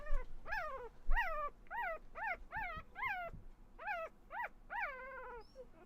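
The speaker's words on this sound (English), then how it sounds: "listen to him bark" A puppy named Wolf Wolf gives a run of about ten high, rising-and-falling yips and whiny barks in quick succession, close by and fairly loud, with no talking over them.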